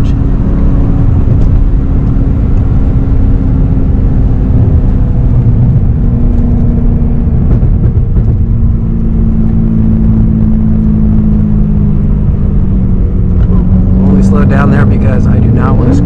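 BMW M3 driven with hand throttle controls, a loud steady engine drone from inside the car with a slowly shifting pitch. Near the end a voice speaks over it.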